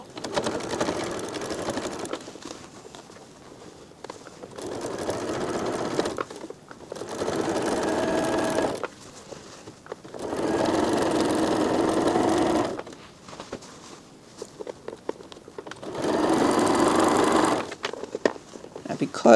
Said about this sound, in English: now before I start sewing I need to make sure that that bit that I was a little bit open is pushed fair together.